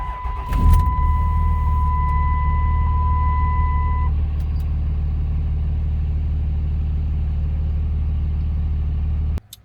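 A Dodge Ram Cummins diesel truck engine idles smoothly with a steady, low rumble close by, joined early on by a brief clunk and a thin whine that fades after a few seconds, then cuts off.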